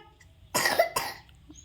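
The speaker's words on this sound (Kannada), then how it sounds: "ಕೆಮ್ಮು ಹೋಗ್ಬಿಟ್ಟಿದೆ ಪಾಪ" A child coughs twice in quick succession, close and fairly loud, over quiet room ambience at a village festival.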